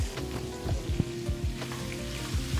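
Three large finely chopped onions sizzle and crackle in hot oil with occasional stirring scrapes, a steady close frying sound.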